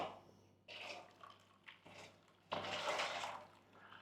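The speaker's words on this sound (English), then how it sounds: "We're going to wash it out with soap and then pour some boiling water on it." Water splashing and pouring into a plant pot as it is washed out with soap and sterilised with boiling water, giving faint bursts of running and splashing liquid close by.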